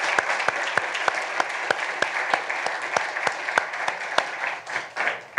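An audience applauds a board member at large at a meeting, with dense steady clapping and sharp individual claps standing out close by, continuous for several seconds.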